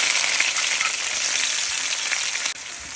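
Steady, loud sizzling of onions frying in hot oil after mustard seeds have popped, a dense crackling hiss that runs throughout and drops off briefly near the end.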